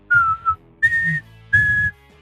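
Person whistling a simple tune in three clear sustained notes with short pauses between them, close and alone with no talk.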